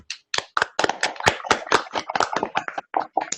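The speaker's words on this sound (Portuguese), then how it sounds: "Uma salva de palmas, pessoal, para a Catiane." A small group claps at a network meeting, a short run of distinct, fairly close hand claps in an uneven rhythm that ends quickly.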